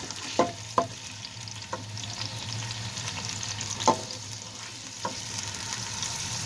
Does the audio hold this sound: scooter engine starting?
no